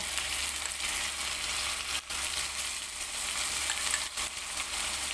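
A paste of onion, ginger and garlic fries for a prawn curry, making a dense, continuous sizzle close up with two brief dips in intensity.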